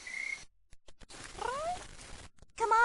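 A pet cat named Rusty meows in short rising calls, a few separate mews spread across the moment with pauses between them, fairly close and moderately loud, with no talking over them.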